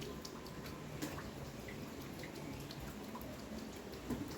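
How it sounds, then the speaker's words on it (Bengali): Rain falling on a house rooftop, a steady, faint wash of patter and scattered drips continuing evenly throughout, with no voices. "এখনও বৃষ্টি পড়েই যাচ্ছে কখনো একটু জোরে কখনো একটু আসতে"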